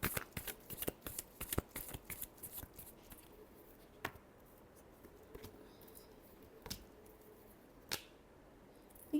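Tarot cards being shuffled by hand, a quick run of crisp riffling flicks that slows into a few separate slaps and snaps, close and fairly quiet with no talking.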